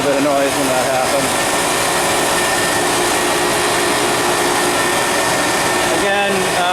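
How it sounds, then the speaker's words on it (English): Industrial water chiller, a 15-ton unit with two big fans and a big compressor, starting up together: a loud, steady broadband roar with a mechanical whine, holding evenly throughout and shifting slightly near the end. "we had fans, 2 big fans and a big compressor all turn on at the same time"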